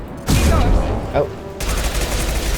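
Rapid gunfire from a weapon in the video game Mass Effect 2, a loud burst of shots in the first second, then a steady dense din of game combat noise.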